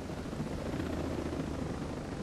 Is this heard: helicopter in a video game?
yes